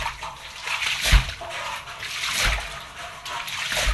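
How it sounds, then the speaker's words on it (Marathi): Water splashing and sloshing on a house floor as it is washed with a pipe fed from a drum, uneven surges of splatter and trickle, close by with no clear talk. "ड्रामामध्ये लावलाय पाईप आणि ड्रामातून पाणी घेतलंय घरात"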